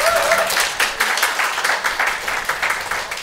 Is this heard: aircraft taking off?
no